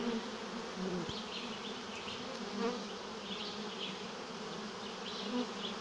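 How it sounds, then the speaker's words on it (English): A steady, dense buzzing of a honeybee colony with many drones moving into a swarm trap hums continuously, close and fairly loud, with faint shifting higher whines drifting through. "A lot of drone in this colony of bees."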